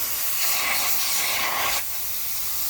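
Pressurized gas rushes out of a small hole drilled in the valve of a beer keg in a garage: a steady, fairly faint broadband hiss that swells, then drops abruptly to a lower level.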